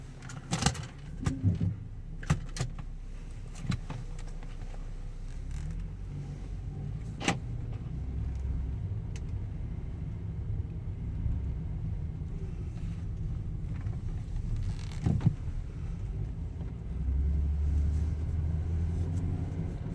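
First-generation Volvo S80 T6 sedan being driven, a steady low road and engine rumble filling the cabin with a few sharp knocks and thumps early on, no talk.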